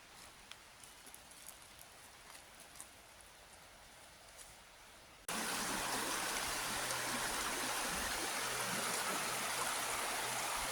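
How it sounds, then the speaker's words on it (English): River rushing through woodland, a steady broadband roar that starts abruptly partway through after a quieter stretch of soft footsteps and light outdoor ambience, close and continuous. "Found the river."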